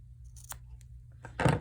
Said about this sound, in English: snip off the excess yarn